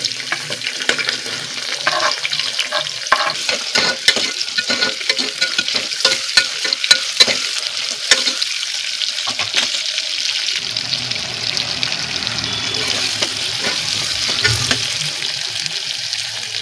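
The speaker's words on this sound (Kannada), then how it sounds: "ನಾನು 3 ಆನಿಯನ್ ಕಟ್ ಮಾಡಿರೋದನ್ನ ಹಾಕೊಳ್ತಾ ಇದ್ದೀನಿ" Chopped onions, three of them, tipped into a hot pan for mushroom biryani and frying: a loud, steady sizzle with scraping stirs and clinks, continuous throughout with no talking.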